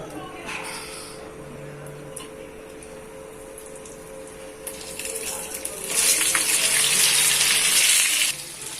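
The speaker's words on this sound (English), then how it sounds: "Fry this second time for making it more crispy." A steady crackling sizzle of chicken 65 frying in oil for a second time, swelling into a louder, denser hiss toward the end before easing back.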